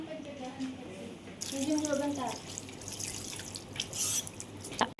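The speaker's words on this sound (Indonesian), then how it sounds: "Lalu setelah itu cuci tangan 6 langkah" Hands washed under a running tap at a sink during a clinical six-step handwashing routine; steady, fairly close water flow with splashing begins after a moment, and someone talks briefly over the start.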